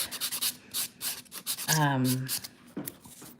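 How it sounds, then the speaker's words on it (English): A nail buffer rubs back and forth across gel nails in quick, close scratchy strokes, with a voice speaking briefly over part of it. "they buff better. Just gets rid of any little harsh lines that you got from filing."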